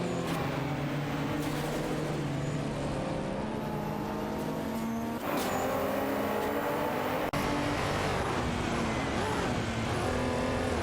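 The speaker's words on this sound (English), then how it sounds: "Okayaki 3 in the Volkswagen Golf GTI 10 and PHY Re in the Fiat Abarth 124 Spider 17 are fiercely fighting for the 11th position" Engines of racing cars in an AI racing video game, including a Volkswagen Golf GTI and a Fiat Abarth 124 Spider battling for position, drone and rev steadily and loudly throughout, with shifting pitches and gear changes layered together.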